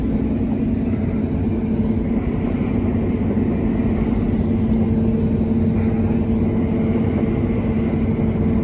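A 160-foot Horsch Leeb VL sprayer drives through an automatic four-wheel-steer headland turn, its engine a steady, loud, close droning hum with constant low rumble throughout, no speech.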